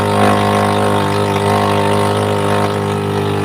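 A motorcycle engine idles close by, a continuous low rumble with a constant hum and no speech over it.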